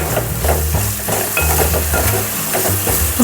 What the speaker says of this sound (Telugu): మళ్ళీ ఇలాగా ఒకసారి మిక్స్ చేసుకోండి